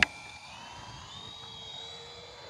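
An E-flite EC-1500 V2 twin-engine 1.5 m electric RC plane flies past outdoors, a faint, smooth high whine that drifts slowly in pitch as it passes and fades, following a brief sharp knock at the start.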